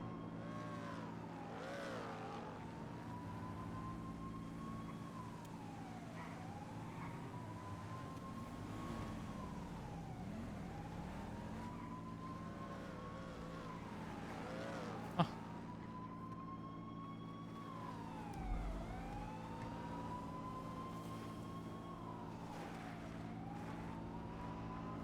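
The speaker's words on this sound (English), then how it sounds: "I hear the car they're chasing." Police sirens wail in a slow, repeating rise and fall while a car is chased, fairly faint and distant, with a sharp knock partway through.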